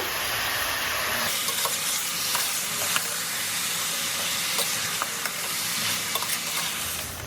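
Goat head pieces stirred in a frying pot of sautéed masala, with a loud, dense sizzle and hiss running throughout and frequent light scraping and clinks of the spatula.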